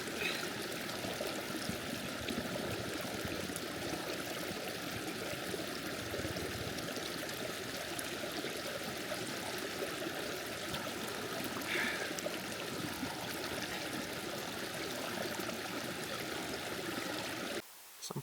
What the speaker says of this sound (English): Found a great camp down by a rock creek